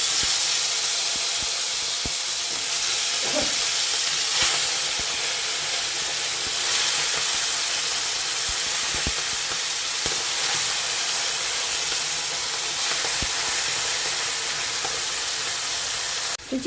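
Chicken shallow frying in hot oil over a lowered flame gives off a continuous, even sizzling hiss that stays close and steady throughout, with no talking.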